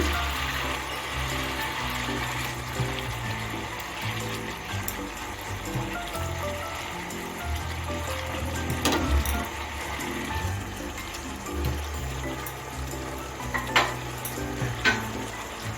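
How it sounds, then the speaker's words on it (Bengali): Pre-fried eggplant pieces drop into a boiling, bubbling gravy and are stirred, making a steady close sizzle and simmer with scraping and occasional clinks of a spoon against the pan. "এখন আমার গ্রেভিটা ফুটে উঠেছে এখন আমি আগে থেকে ভেজে রাখা বেগুনগুলো দিয়ে দিচ্ছি"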